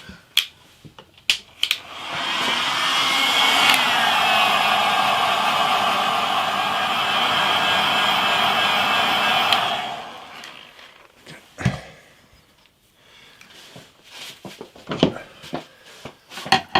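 A heat gun blows with a steady, loud whirring rush for several seconds while heating a glued fret on a 50-year-old acoustic guitar, then stops, followed by scattered sharp taps and clicks.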